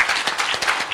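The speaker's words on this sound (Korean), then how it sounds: "여러분들을 위해서 우리 모두 다 같이 박수 한번 크게 쳐줬으면 좋겠어요" A seminar talk show audience in Korea claps together, producing a dense, steady patter of applause throughout the brief moment.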